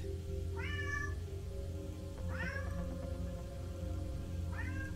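A house cat meows three times, each a short, rising-then-falling cry spaced a second or two apart, clear and moderately close over a steady low hum of background game audio.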